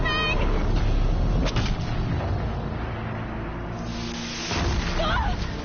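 Cannon fire in the video game Horizon Zero Dawn booms heavily amid a dense, loud battle soundscape of rumbling blasts and impacts, with a brief voice-like cry near the end.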